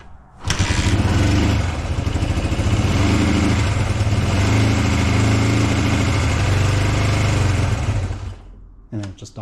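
A Honda CB125 Twin motorcycle engine with a carburettor fault starts and runs with a loud, steady rumbling idle for about eight seconds close by, then stalls and falls silent.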